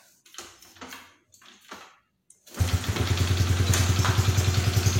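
Kick start of a Honda Supra underbone motorcycle with its electric starter removed: a few short mechanical kicks, then the engine catches and settles into a steady, close, loud idle with a pulsing beat.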